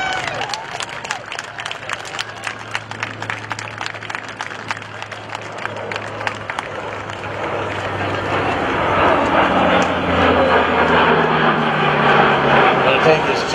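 At a Marine Corps air show at Joint Base McGuire-Dix-Lakehurst, a crowd claps first, then a loud military aircraft engine roar swells and holds as helicopters and jets are recovered, a voice talking over it.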